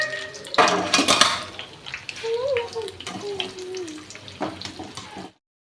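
Plantain bajji fritters drop into hot oil and frying with a bubbling hiss, along with a few clatters of utensils, while a voice speaks over it and the sound cuts off at the end.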